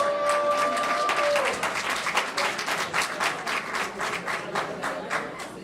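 An audience claps steadily and fairly close for several seconds, a brief tone sounding at the start and a faint murmur underneath the clapping.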